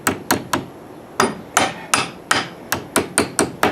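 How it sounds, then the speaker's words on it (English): A hammer drives wooden stakes into the ground for a backyard swing set, sharp loud whacks in an uneven series of about a dozen blows, close up with no talk. "Call before you drive stakes."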